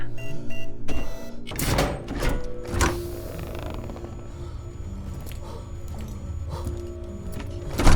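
A door is pushed shut and sealed, a few loud knocks and a mechanical clunk early on, then a quieter scraping mechanism and room noise, with a final thud at the end.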